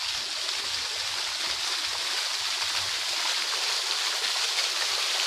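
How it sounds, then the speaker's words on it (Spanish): Stream water falling through a small ravine near Laguna Prieta and the Río Arcoíris: a continuous, broad rushing and splashing that stays steady and fairly loud for the whole stretch, with no voices. "Miren ahí donde va la cañadita y donde está cayendo el agua ahí detrás."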